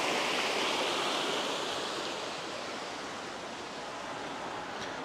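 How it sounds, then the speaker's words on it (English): Water from Winterley Pool in Cheshire drains out of the lake in a steady, broad rushing wash, close and continuous with no breaks, like a small weir or outflow. "It's actually draining out of the lake there."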